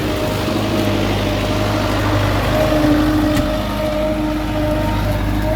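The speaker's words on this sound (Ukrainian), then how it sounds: "Зараз вийду, покажу, як трактор горе в борозді." An MTZ 892 tractor pulling a new plough through a furrow on a farm gives a steady, close, low engine drone with a constant rumbling hum and no voices.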